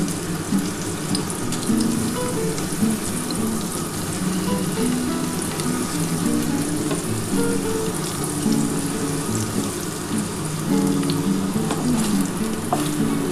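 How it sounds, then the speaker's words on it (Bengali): Paneer sizzles in hot ghee in a wok, a dense, continuous crackling fry that stays fairly loud and even throughout, with no voices. "কড়াটা বসিয়ে দিয়েছিলাম ঘি গরম হয়ে গেছে এবার আমি পনিরগুলো দিয়ে দিচ্ছি পনিরটা কিন্তু খুব বেশি ভাজবো না"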